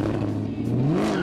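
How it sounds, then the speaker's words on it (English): A supercharged 2017 Callaway Camaro SC750 revs briefly. Its engine note climbs with a whining supercharger and a blaring exhaust, loud and close in a short burst. "a heavy metal soundtrack of supercharger shredding and blaring exhaust rhythm"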